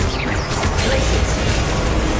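Spell-casting effect in the Hogwarts Legacy video game, a dense, steady roar of crackling noise that fills the whole stretch at constant loudness.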